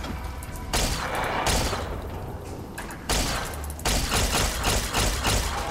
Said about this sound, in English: energy weapons